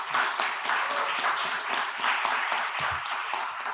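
Applause from a panel audience in Dubrovnik, a continuous wash of many people clapping at fairly close range, steady and unbroken throughout.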